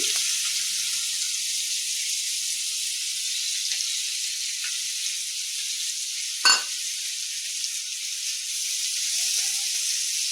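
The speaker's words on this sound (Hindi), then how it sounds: "एकरा भूरा होय तक बढ़िया जकाँ भुजबाके छै।" Finely chopped onion frying in a pan until brown, a steady bright hiss that runs unbroken with one brief scrape or knock partway through, close and fairly loud, for a soya chunk curry.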